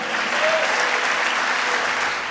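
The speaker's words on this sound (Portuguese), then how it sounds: "Aplaude e glorifica o nome de Jesus" Sustained applause from a church congregation, steady and dense clapping throughout with no pauses.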